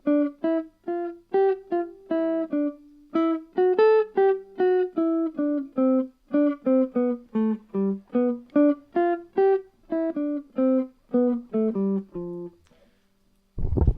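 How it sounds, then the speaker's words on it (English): An improvised melodic solo running up and down a scale, with a steady stream of separate pitched notes rising and falling, played clearly and alone, with a brief noisy burst at the very end. "might just sound like the student running up and down the scale and hitting or landing on a note"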